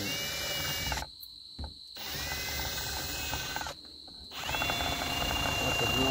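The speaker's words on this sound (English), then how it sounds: "That's a drill." A power drill runs in sustained whirring bursts with two short pauses, drilling a small hole while mounting a transducer bar and trolling motor controller on a sonar platform, loud and close.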